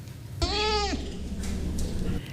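A pet goat on a leash in a shopping mall gives a single loud, wavering bleat of about half a second. Steady low background noise from the mall runs throughout.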